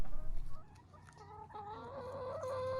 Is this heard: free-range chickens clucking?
yes